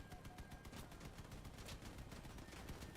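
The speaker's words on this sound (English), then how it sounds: "A guy using his lovely, lovely auto cannons." Auto cannons fire in the vehicle combat game Crossout as a rapid, continuous stream of staccato shots, quiet and somewhat distant, layered with other gunfire, with no speech.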